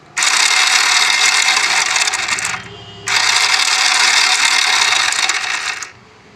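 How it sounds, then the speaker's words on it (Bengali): A Hero Splendor Plus motorcycle with a self-start fault gives two long, close mechanical whirring bursts when the starter is pressed, with a short gap between them and no talk. "সেলফ দেওয়ার সাথে সাথে ইঞ্জিন থেকে একটি আওয়াজ বার হচ্ছে শুধু।"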